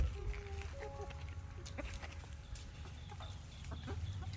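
Chickens clucking softly in a Kerala garden as they are fed rice, with a few short calls over a steady low outdoor hum.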